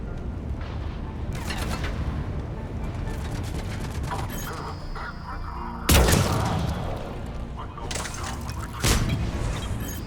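Overloaded assault rifle fire and explosive booms in the game Mass Effect 3 come in loud bursts with heavy impacts, mixed with game sounds and a voice talking.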